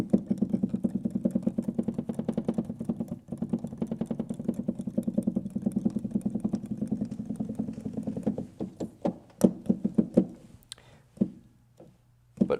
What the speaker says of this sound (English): Roland actions are known as being loud on the downstroke and pretty quiet on the upstroke.